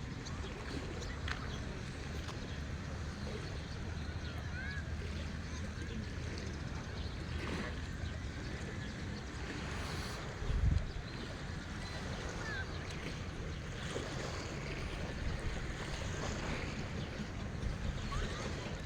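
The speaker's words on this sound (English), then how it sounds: "As you can see, the ocean is quite calm." Calm ocean waves wash in a soft, continuous hiss at dawn, faint and steady with light wind, while someone talks intermittently over it.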